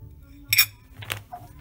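A metal lid rattles and clinks against a washed, ribbed vintage glass jar from the 1930s as it is worked loose, giving two short bright clattering bursts close by and then quiet.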